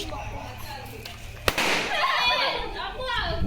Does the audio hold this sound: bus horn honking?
no